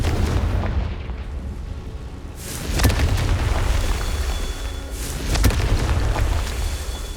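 In the Hogwarts Legacy video game, the Confringo fire spell sets off deep explosive booms, with two heavy blasts a few seconds apart rolling over a continuous low rumble.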